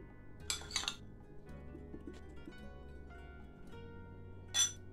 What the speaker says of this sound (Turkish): Şu elmalardan da şöyle kaşıkla atıştıralım.